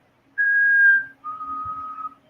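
A person whistles in imitation of a girl's whistle: two sustained, steady tones, the first higher and the second slightly lower, loud and close, with a brief gap between them and no talking.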